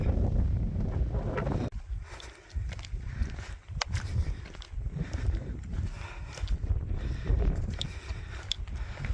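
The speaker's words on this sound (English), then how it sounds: "Wind is picking up now." Wind on an exposed mountain ascent toward the summit of Diffwys, gusting rumble buffeting the microphone alongside scuffing footsteps on the climb, continuous and close with no talk.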